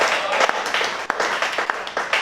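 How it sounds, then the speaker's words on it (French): Church congregation applauding at a French-language worship service, a moderately loud wash of clapping with distinct individual claps standing out, no speech over it. "qu'on applaudit très fort"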